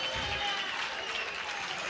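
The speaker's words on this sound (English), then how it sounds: "The Hawkeye crowd gives a little yell." A baseball crowd at an Iowa Hawkeye game against Virginia gives a brief cheer and applause, a short distant wash of noise.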